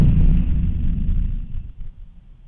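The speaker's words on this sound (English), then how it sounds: "That sounded like a pretty big explosion." Deep, rumbling boom from a distant explosion during wartime in Ukraine, a loud low-frequency roar that swells at once and slowly fades over a couple of seconds with no voices.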